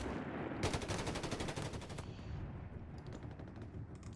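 MG-15 machine gun fire in the Company of Heroes 3 strategy game, a rapid sustained burst of closely spaced shots for over a second, then scattered distant gunfire and battle noise.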